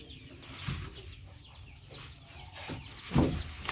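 Farmyard chickens clucking while being fed at midday in cold, overcast weather, with soft scattered clucks, wing flutters and shuffling, and a louder burst near the end.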